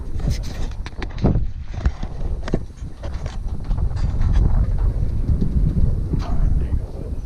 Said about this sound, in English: is it really that windy?